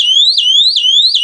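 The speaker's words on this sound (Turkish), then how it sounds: "Hareket dedektör, pır dedektör göründükten sonra alarm devreye girdi" Burglar alarm siren set off by a motion detector, a loud, steady electronic wail sweeping up and down in a rapid repeating cycle, close and alone.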